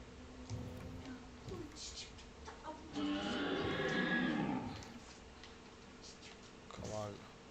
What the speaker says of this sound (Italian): Cavallo.